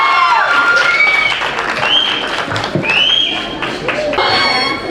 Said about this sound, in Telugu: ఒక్కసారి మరి గట్టిగా చప్పట్లు కొడుతూ సూపర్ జర్నీకి అద్భుతంగా